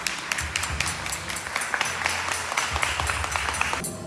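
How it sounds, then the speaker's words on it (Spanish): Audience applause at an anniversary celebration for a radio love-songs program, scattered claps with some crowd noise, moderately loud and continuous, cutting off abruptly near the end. "que se brinden un aplauso por favor todos ustedes"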